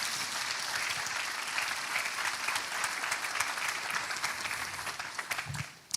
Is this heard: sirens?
no